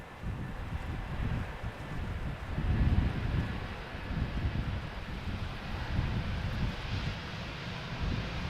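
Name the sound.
Airbus A320neo taxiing to runway at Schiphol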